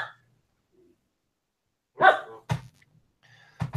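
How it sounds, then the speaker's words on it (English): A pet dog indoors gives a few sharp barks close by, one around the middle and a couple more near the end, separated by near silence. "They didn't take the dog, and she's going to keep barking."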